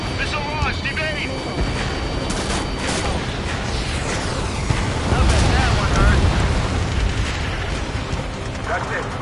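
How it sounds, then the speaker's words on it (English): Missile launch in an aircraft combat video game: a dense, roaring rush of noise with rumbling low end that swells midway, layered with engine drone and game effects. "Missile launched!"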